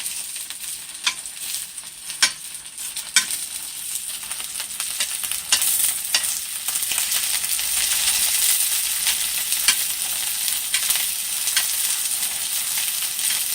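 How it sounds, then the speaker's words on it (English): Steady crackling sizzle of cipollini onions frying in olive oil, with scattered sharper pops over a constant hiss, close and fairly loud throughout. "let your onions sit and don't disturb them while they're frying"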